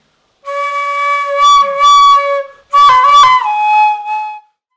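A tarca, the square wooden Andean flute, plays loud, close, breathy sustained notes in two phrases, the second wavering and bending downward before fading, with no talk.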